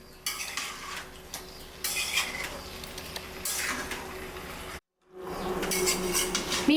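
Chicken pieces are stirred and fried in oil over high flame for chicken pickle. A loud, continuous sizzle runs under rhythmic scraping of the spoon against the pan, with one brief moment of sudden silence.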